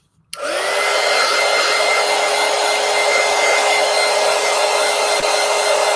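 A hair dryer switches on abruptly and runs at a steady, loud, even whir, drying an art journal page for an autumn collage project, with a constant motor tone and no talking.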